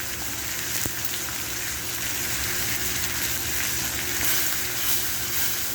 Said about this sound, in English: I'm going to put just a dab more butter in here.